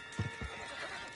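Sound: horse neighing in video game Red Dead Redemption 2

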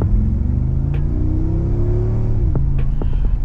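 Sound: Mercedes G-Wagon engine revving

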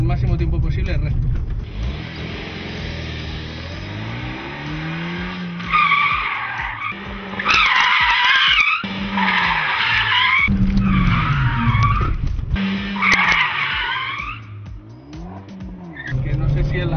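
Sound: car skidding sideways in a spin

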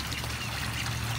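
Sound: fresh water being poured for the ducks

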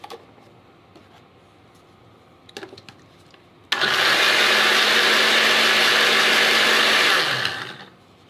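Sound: blender blending carbonara sauce

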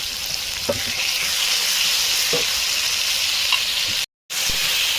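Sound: mutton spice masala being stir-fried in oil

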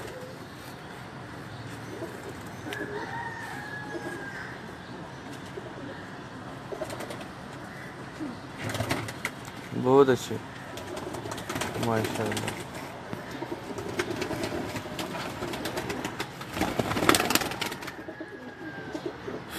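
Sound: pigeons

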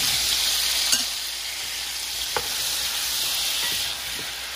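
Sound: mushrooms frying in butter in a pan

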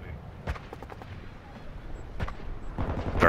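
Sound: gunfire close by in a video game

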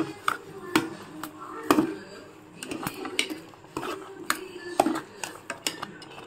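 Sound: stirring sugar and coconut milk sweet in a pot

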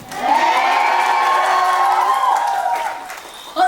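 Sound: concert audience cheering

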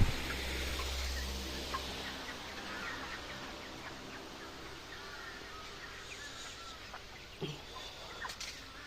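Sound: chickens in a poultry shed

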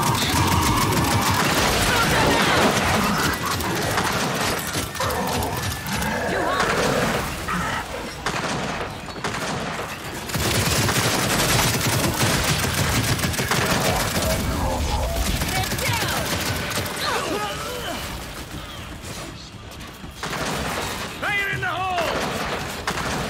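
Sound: gunfire in the video game Gears 5

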